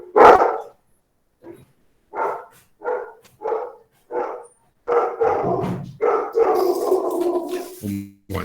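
A dog barks in a series of loud, close single barks spaced about a second apart, then breaks into a longer stretch of continuous barking and yelping near the end.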